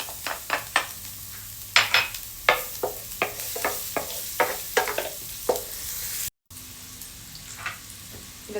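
Garlic sizzles and fries in hot melted butter in a pan while a utensil stirs it, leaving repeated sharp scraping and clinking strokes over a steady crackle, close and moderately loud, with a brief dropout near the end.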